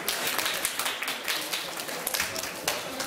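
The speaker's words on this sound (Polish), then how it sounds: "Wielkie brawa, proszę." Audience applause at a Polish exhibition event, a dense, steady wash of many hands clapping close by for about three seconds, with scattered voices mixed into the noise.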